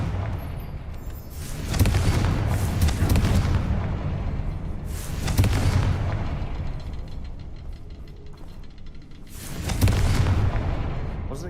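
The Confringo fire-blast spell in Hogwarts Legacy goes off as three heavy, booming explosions spaced a few seconds apart, each with a long rumbling tail.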